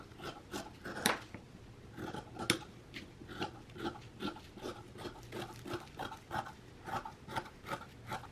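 Scissors snip through fabric while sewing pattern pieces are cut out, giving a steady run of short crisp cuts at close range with no talking.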